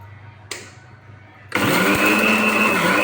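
Dried neem leaves being ground in an electric grinder: after a quiet start with a single click, the motor bursts into a loud, steady, high-pitched whirring roar that holds to the end.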